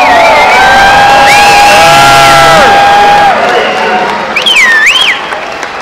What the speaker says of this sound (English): make some noise for these top three teams